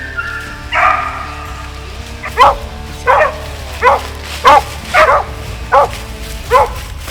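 Hunting dogs running deer in North Carolina woods bark and yip in a rhythmic series of about eight sharp calls at moderate distance, over a low steady background hum.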